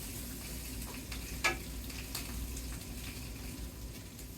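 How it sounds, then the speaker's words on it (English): Onion frying in a pan makes a faint, steady sizzle with a few light clicks and one brief sharper crackle, heard alone without voices. "add your onion. We're going to fry that up"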